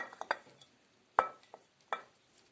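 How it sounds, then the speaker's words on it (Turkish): A few sharp clinks and scrapes of a utensil against a pan as grated potatoes are added to onions, spaced out with quiet gaps, close by and without speech. "Şimdi patateslerimi soğanımın içerisine ekliyorum."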